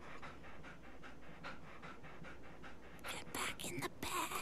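A dog in the RWBY animated show pants in quick, rhythmic breaths, with talking joining over the panting toward the end.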